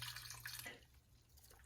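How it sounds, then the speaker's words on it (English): Water poured into a pot of ground cherries on the stove, a faint splashing trickle for under a second that then fades into quiet background noise, with no talking. "Heat on, add a little bit of water because they're quite covered."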